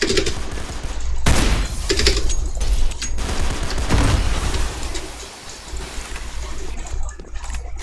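Heavy video game gunfire with grenade blasts, a loud dense fusillade of rapid shots and booming bursts around the one- and four-second marks, close and continuous before thinning into scattered distant shots.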